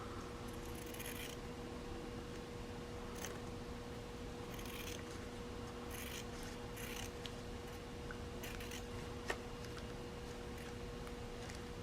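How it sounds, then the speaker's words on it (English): Scissors snip through fabric in a series of quiet, intermittent cuts, each a short crisp rasp, spaced irregularly over a faint steady background hum. "God, these scissors are becoming awful."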